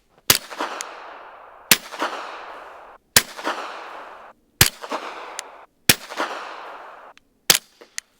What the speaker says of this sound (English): Suppressor's on there. 5 rounds of 10, followed by 5 rounds of 40.